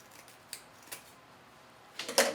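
Scissors snip through wreath ribbon on a witch hat wreath, a few faint quiet cuts early on followed by a sharper, louder crisp snip near the end, with no talking.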